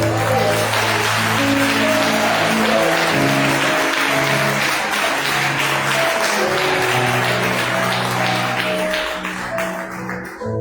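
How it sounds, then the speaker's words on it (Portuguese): Church congregation applauding Jesus during a pastor's sermon, sustained loud clapping from many people with music tones running underneath, easing off near the end. "Vocês vão aplaudir Jesus, capricha, irmão"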